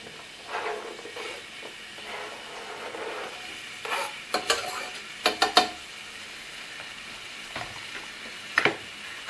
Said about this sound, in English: I'm going to put a little bit of olive oil into my pan, and then I'm going to fry these down.